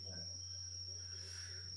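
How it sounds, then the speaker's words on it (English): Crickets chirp in a steady, continuous high trill with a constant drone underneath, moderately loud and unbroken, with no one speaking. "What the fuck with those crickets?"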